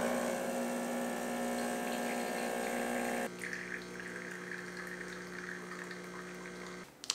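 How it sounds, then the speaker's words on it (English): Sound-deadened espresso machine running without load, a steady close pump hum with water trickling, then a quieter, lower hum where faint espresso drips come through, ending with a small knock. "we have a pretty pleasant sounding machine. I think the nicest thing about this is just how clearly you can now hear the drips from the espresso"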